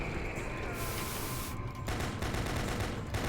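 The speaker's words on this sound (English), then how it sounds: "I got fucking sniped!" Sniper gunfire in the video game Doom comes as dense, loud bursts of crackling fire that cut off briefly and then resume.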